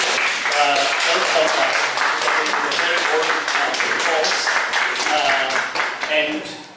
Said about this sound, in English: And we would also give a warm applause to Bishop Anton Jamnik